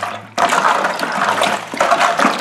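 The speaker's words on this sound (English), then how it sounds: "can you hear all that gritty sound as I'm stirring? Well, that is the sugar." Sugar being stirred into liquid for redcurrant wine gives a loud, gritty, splashy swishing that starts abruptly and continues steadily, close up with no talking.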